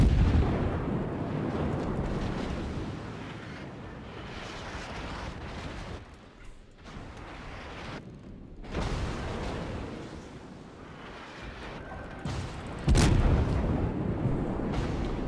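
American cruiser New Orleans at tier 7 in World of Warships under fire from secondary guns, repeated heavy booms and blasts rolling one after another, loud and close, with short quieter gaps between volleys.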